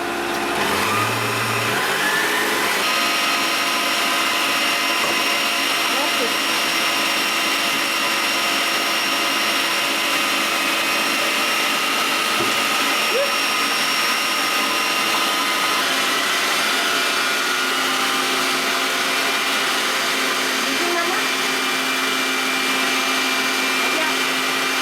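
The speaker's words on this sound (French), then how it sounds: "quand je vais battre les blancs en neige, on va rajouter petit à petit le sucre en poudre" An electric mixer whips egg whites to stiff peaks with sugar for ladyfinger biscuits, a loud, steady high-pitched motor whir that runs continuously from start to finish.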